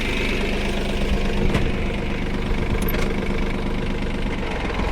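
A steady, close Mahindra Oja 30 hp tractor engine drone runs throughout at constant loudness while pulling a soybean weeding implement, with a rough low rumble and occasional clicks; no voices.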